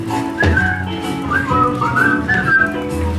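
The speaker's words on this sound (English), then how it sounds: "Just purse your lips and whistle, that's the thing." A person whistles the melody of a cheerful stage-musical song, loud and close, with clear rising and falling phrases and short breaks, and no voices over it.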